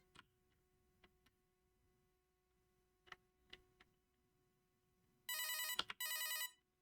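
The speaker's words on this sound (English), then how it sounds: "Oh, there's the phone again." Telephone ringing in a horror game, two loud electric bell bursts near the end after a quiet stretch of faint ticks and low hum.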